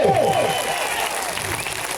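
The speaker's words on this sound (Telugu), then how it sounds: "గట్టిగా చప్పట్లు" Loud applause from an audience at an e-bike business meeting in Shamshabad, a steady dense wash of clapping that carries through the whole moment without easing off.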